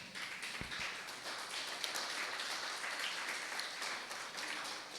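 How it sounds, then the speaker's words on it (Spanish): A church congregation claps together in praise, a steady, fairly faint wash of hands with a few sharper taps, heard from a distance. "Dale un fuerte aplauso al Señor."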